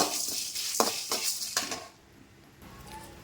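Dried red chillies fry in a pan for a mushroom curry, with metal spoon scrapes and clinks stirring over a soft sizzle before the sound drops to a faint hiss.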